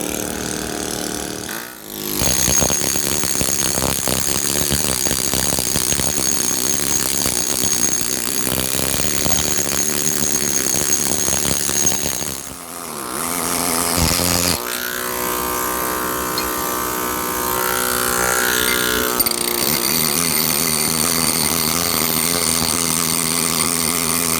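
A 3/4 inch stone carving machine squaring a granite block gives a loud, steady mechanical roar throughout, with two brief dips where the tool pauses or shifts before grinding on.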